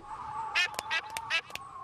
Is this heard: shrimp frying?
no